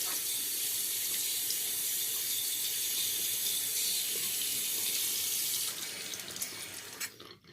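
Tap water pours steadily into a sink to wet a shaving brush, a continuous close hiss of running water that tapers off as the flow is shut near the end, with a few small clatters.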